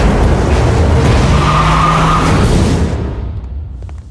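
A car pulling away quickly with tires skidding, a loud close screech and engine roar that fade away toward the end.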